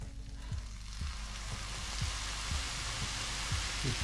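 Soy sauce hits buffalo worms frying in a wok, giving a steady, bright sizzle with soft low thumps recurring about every half second, close and fairly loud throughout.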